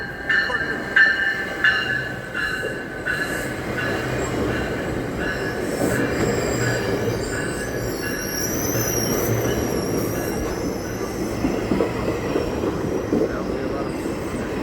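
A train passes close by with heavy rumbling, wheel clatter and high squealing, joined midway by sustained high tones that may be its horn, continuous and loud throughout.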